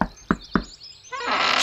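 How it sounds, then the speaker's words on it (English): Two firm knocks on a cottage's wooden door sound close and hollow, evenly spaced, followed by a rising wash of background music. "She knocked on the door,"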